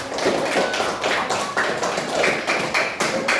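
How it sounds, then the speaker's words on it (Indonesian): A fifth-grade class at an Indonesian elementary school claps hands together in quick, steady, sharp rhythmic taps, loud and close, with no talk over it. "Tepuk tangan semua dulu"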